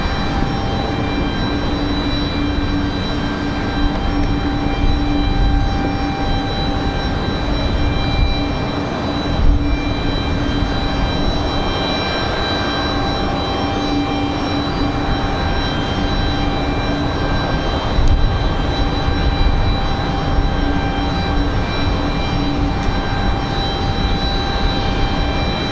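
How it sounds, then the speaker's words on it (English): A Breeze Airways Airbus A220 jet at Raleigh Durham International on a windy day, a loud sustained engine roar and rumble that holds steady for the whole stretch, mixed with wind noise. "There's that A220 we've been hearing for Breeze Airways."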